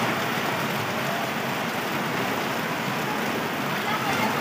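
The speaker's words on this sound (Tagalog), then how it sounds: "Lakas ng ulan mga bro." Heavy rain pouring down outside, a dense continuous hiss of drops on surfaces that stays steady and loud throughout with no breaks.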